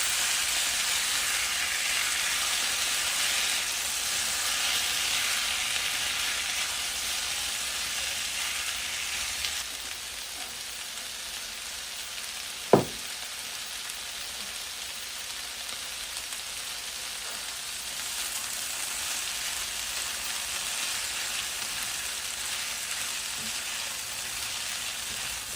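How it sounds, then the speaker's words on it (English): Vegetables sauté in a pan for a rice dish, a steady sizzling hiss that dips briefly near the middle, with one sharp clink partway through and no talk. "All right, so now our vegetables are getting nice and sauteed."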